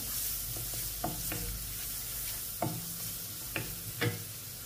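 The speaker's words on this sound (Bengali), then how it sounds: "দিয়ে মশলাগুলো আবার মিক্স করিয়া নিব" Spices such as turmeric, chili powder and chaat masala are stirred in a sizzling pan, a low continuous fry with several sharp scraping knocks of the spoon against the pan, close and fairly quiet.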